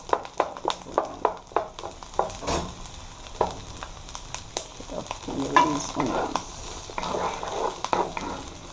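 Garlic and ginger frying in a pan for Jamaican-style sweet and sour chicken, stirred with a utensil. Sharp scraping clicks repeat in a quick uneven rhythm over a soft, steady sizzle, close and moderately loud.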